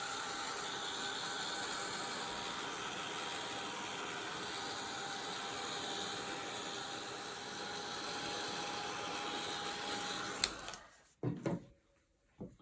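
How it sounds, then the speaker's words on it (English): A craft heat dryer runs continuously with a steady, faint blowing whir for about ten seconds, then clicks off, leaving a few soft handling knocks. "And what we'll do is just use our craft dryer."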